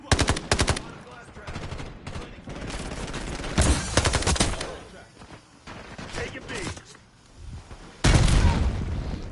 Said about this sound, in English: just shotguns and shotguns and more shotguns and the more shotguns and more smoke